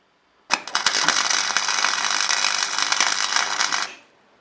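MIG tack weld on a thin steel ute tray floor, a close, loud, steady crackling buzz lasting about three and a half seconds that starts and stops abruptly.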